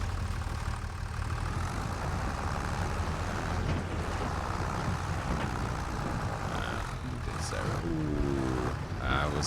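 A weak tractor straining to haul a trailer loaded to around 18.5 tonnes in Farming Simulator 25, a steady droning engine rumble that stays loud and continuous throughout, with a few faint clicks near the end.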